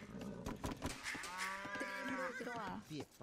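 A cow moos in the video game Age of Empires, one drawn-out low bellow with a slight rise and fall, heard over steady game sounds and faint background noise.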